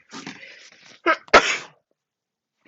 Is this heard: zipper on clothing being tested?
no